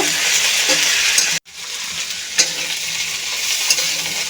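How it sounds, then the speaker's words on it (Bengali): Cauliflower frying in mustard oil gives a continuous near sizzle with light stirring scrapes and one abrupt break partway through, no one talking. "ভালো করে ভেজে নেব"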